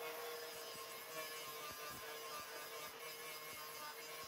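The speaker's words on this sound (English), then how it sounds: "This grinds down quite nicely" An abrasive grinder works down MIG welds on a steel Ford Escort MK1 door panel, giving a steady, moderately faint whirring rasp with light scraping ticks as it gently touches the metal.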